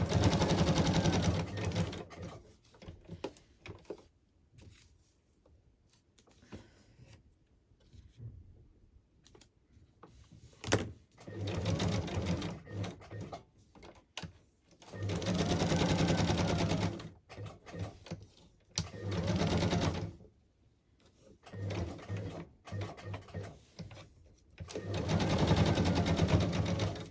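A sewing machine runs a straight stitch around an image on fabric for an embellishment cluster, loud bursts of rapid stitching separated by pauses and quieter stretches.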